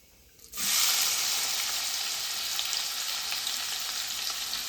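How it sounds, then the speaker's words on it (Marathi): A sudden loud sizzle erupts as onion hits hot oil with crackled cumin, then settles into a steady, close crackling hiss of frying. "तर कांदा घालून घेणार आहे"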